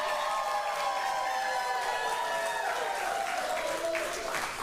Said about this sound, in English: if you guys keep clapping like that